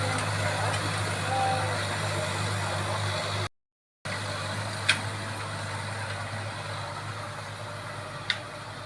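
A heavy tractor engine idles steadily nearby on a farm in the Philippines, a low constant drone with faint higher noise and a couple of brief clicks.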